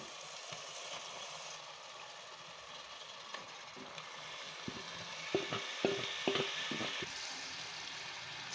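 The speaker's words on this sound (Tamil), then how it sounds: "இப்போ நம்ம ஊற வச்சு எடுத்து வச்சுருக்க சிக்கன் ஆட் பண்ணிக்கலாம்" Marinated chicken goes into biryani masala, a soft steady sizzle running throughout, with a cluster of sharp stirring clatters and scrapes of a spoon against the pot near the end.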